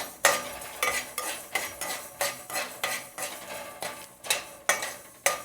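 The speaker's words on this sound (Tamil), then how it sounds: "இப்போ இதை போட்டு லைட்டாக ரோஸ்ட் பண்ணிக்கலாம்." Fenugreek and mustard seeds are dry-roasted in a pan for ginger thokku, with about a dozen rhythmic spatula strokes scraping and rattling the seeds, close and evenly paced.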